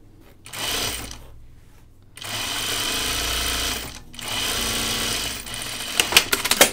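A sewing machine runs in bursts, stitching a shirt dress: three long, steady mechanical runs separated by short pauses, ending with a few sharp clicks and clunks.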